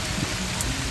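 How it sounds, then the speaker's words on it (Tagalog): Steady rain pours down over a vegetable plot of eggplants during a May downpour, a dense, even hiss of drops filling the whole moment with no voices. "Salamat naman at umulan."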